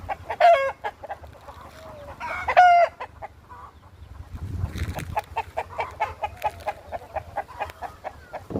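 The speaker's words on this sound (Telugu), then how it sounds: "చూసారు ఎలా ఉన్నాయో పుంజులు" Prized roosters on a village farm crow loudly twice, then cluck in a steady rhythm of short, close calls, with no talk.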